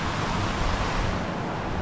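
Chuvisqueiro waterfall in Riozinho, seen from its top beside a pool, roars as a steady, loud, broadband rush of falling water that stays constant throughout, with no voices.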